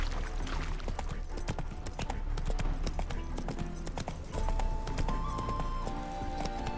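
Hooves of a horse clip-clopping steadily in The Witcher 3, with a brief whinny, close and rhythmic over game music.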